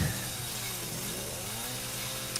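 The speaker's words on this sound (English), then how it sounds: "But you do have to pick up the chainsaw because you gotta do this." Chainsaw from the video game Resident Evil 7 drones steadily throughout, a close, continuous whining engine roar with shifting pitch and no voices over it.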